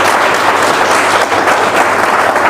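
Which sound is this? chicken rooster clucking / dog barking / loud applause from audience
loud applause from audience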